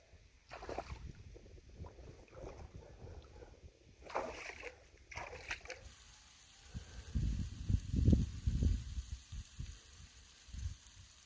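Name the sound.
splashing in lake water at Malham Tarn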